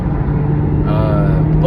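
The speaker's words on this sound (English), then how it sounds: "Traffic's crazy." Traffic on a busy road drones past with a steady low engine rumble, one vehicle rising slightly near the end.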